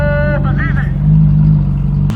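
A sports car engine with a Ferrari 458-like tone revs briefly at night, a high rising note over a deep, steady exhaust drone from a nearby straight-piped car.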